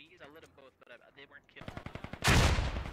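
Mortar fire and gunfire in the Squad video game: after a stretch of talk, rapid gunshots crack close and loud, then a heavy mortar blast booms and rumbles at the end.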